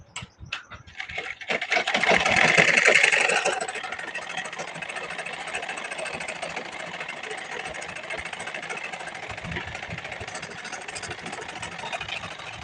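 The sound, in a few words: sewing machine stitching folded lace on blouse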